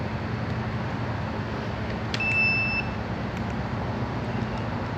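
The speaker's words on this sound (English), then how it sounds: "Using my handy little battery tester." A handheld battery tester checking an RPS 200 ATV battery gives a single short, clear electronic beep over a steady low background hum, nearby.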